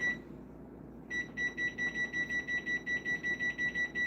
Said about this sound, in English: I'm gonna actually set a timer